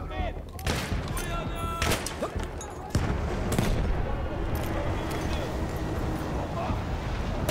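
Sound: grenade explosions and gunfire in Battlefield 1 video game

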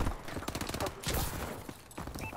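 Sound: gunfire in Call of Duty video game

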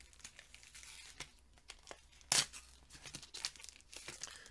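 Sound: tearing open a Pokemon trading card foil pack

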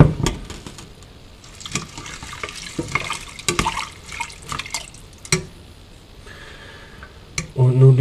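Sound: water poured into a cooking pot

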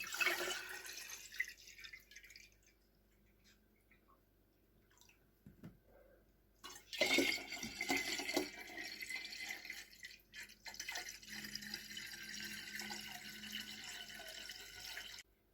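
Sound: pouring water into empty jars

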